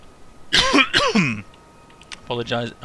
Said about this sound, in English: Apologies about the constant coughing in your ears if you're watching with headphones